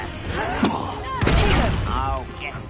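Confringo fire-blast spell in Hogwarts Legacy, with bursting impacts and a booming blast amid combat effects over a couple of seconds, while a voice talks over it.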